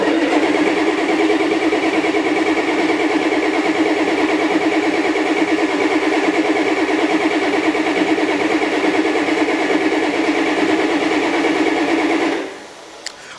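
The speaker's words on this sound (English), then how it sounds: "Well, it is cranking," An old diesel vehicle's engine cranks steadily on a start button, a loud continuous churning that runs for about twelve seconds without catching, then cuts off abruptly near the end.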